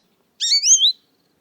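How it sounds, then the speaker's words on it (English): A single short American goldfinch call rings out clearly on its own: a bright, rising-and-falling chirp of under a second against silence. "Listen, American goldfinch, Jri."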